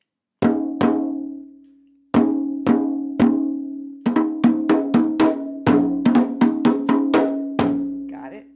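Drum hits play a beat pattern: two beats, then three, then six, then one final hit. Each strike is a sharp, ringing, cowbell-like tone that decays, played alone with no talk.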